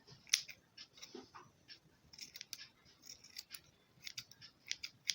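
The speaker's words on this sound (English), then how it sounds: "Then you want to trim off any excesses." Small scissors snip repeatedly at excess feather trim on a bridal fur and feather hand fan, with quiet, close, irregular cuts and no talking.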